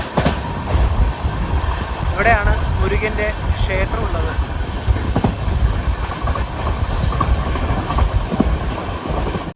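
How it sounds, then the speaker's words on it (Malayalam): An Amrit Bharat Express sleeper train runs past Thiruparankundram station toward Madurai with a steady, close rumble and rail clatter, while someone talks over it. "ട്രെയിൻ ഇപ്പോൾ തിരുപ്പറൻകുണ്ട്രം സ്റ്റേഷൻ സ്കിപ്പ് ചെയ്യുകയാണ്"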